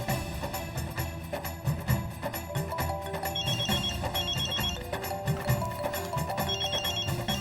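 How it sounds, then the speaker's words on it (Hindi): A telephone rings in a Hindi TV sitcom scene, playing a melodic ringtone that repeats continuously at moderate loudness with no talk over it. "बजने दीजिए, रिंग बजने दीजिए।"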